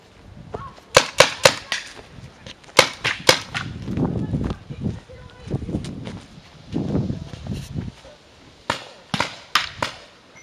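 Paintball markers fire throughout an outdoor paintball game, with sharp pops in quick bursts and scattered single shots, some near and some farther off, over a rustling background.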